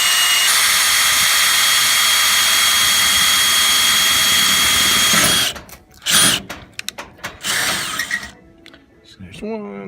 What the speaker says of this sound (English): Might not be the best drill bit.